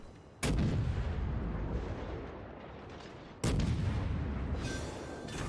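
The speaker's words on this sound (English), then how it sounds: "continue firing at the South Carolina" Warship main guns firing in the naval combat game World of Warships: two heavy, booming salvos about three seconds apart, each loud and sudden with a long rumbling decay, and no talking.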